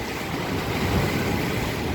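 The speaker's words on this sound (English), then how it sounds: "Pretty good waves today, I'm telling you." Ocean waves break along a beach beside a boardwalk in a dense, unbroken wash of surf that fills the short stretch at an even, fairly loud level, with no voices.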